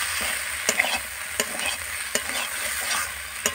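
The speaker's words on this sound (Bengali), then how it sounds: "এবার এই মশলাগুলোকে খুব ভালোভাবে কষিয়ে নিতে হবে।" Spice paste for a meat curry sautéing in oil with a splash of water, a steady loud sizzle broken by regular scraping strokes of a spoon against the pan, close and without voices.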